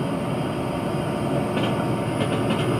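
A train running in Train Simulator 2013 gives a steady, loud rolling rumble throughout, with a few faint metallic clicks late in the clip and no talking.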